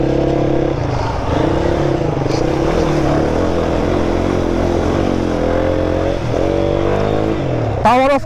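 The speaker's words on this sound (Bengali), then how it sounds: "এটা হচ্ছে একটা অ্যাডভেঞ্চার ট্যুরিং বাইক" A Lifan KPT 150 adventure touring motorcycle runs loud and close with a steady engine drone, its pitch wavering through the stretch, and a sharp rise in revs right at the end.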